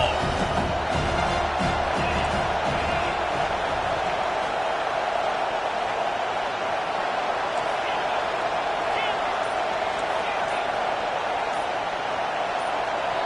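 A packed college football stadium crowd at a Baylor game roars loudly and without letup on a third-and-long play, a dense, sustained wall of cheering and noise.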